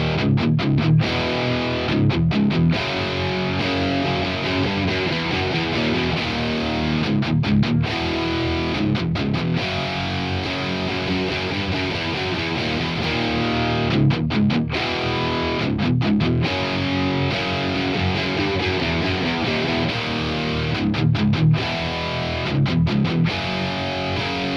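Distorted electric guitar through a Friedman amplifier, heard with the JBE mod switched on and then off, playing continuous heavy riffs with brief choppy stops, close, loud and unbroken by talk.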